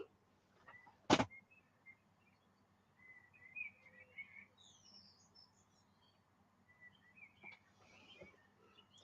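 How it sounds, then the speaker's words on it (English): Scattered bird chirps and short calls at sunrise sound faint and distant over a low hum, with a sharp click early on. "birds are going apeshit because the sun's coming up"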